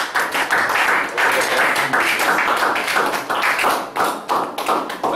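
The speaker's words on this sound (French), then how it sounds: "Acclamation pour le Seigneur." A church congregation claps steadily and loudly in a continuous wash of applause, dense and sustained throughout.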